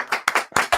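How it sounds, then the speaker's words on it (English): Several people clap together in a podcast studio: a few quick, loud, close bursts of hand claps in rapid succession. "Oh, we clapped way too loud."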